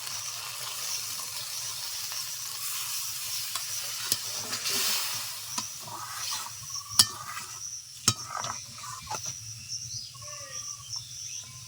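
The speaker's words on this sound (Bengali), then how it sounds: "এখন একটু জল দিয়ে দিচ্ছি" Pointed gourd curry cooked with yogurt in a pan, Bengali village style, with water poured in so the steady sizzle and frying hiss rise, plus scattered clinks and stirring knocks, heard close with faint insect chirps in the background.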